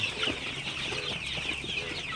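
Sonali super hybrid chickens, 45 days old, cluck and murmur continuously nearby at night, a busy overlapping chatter of several birds.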